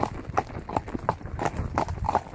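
Chestnut Mangalarga Paulista horse with four white socks trotting, hooves clip-clopping in a steady, evenly spaced rhythm of about seven close, crisp strikes.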